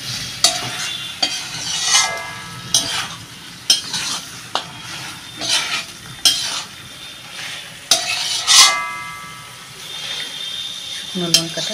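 Mutton with onions fries in oil in a pot, a steady sizzle broken by repeated scraping and stirring strokes of a metal spoon against the pan, close and fairly loud.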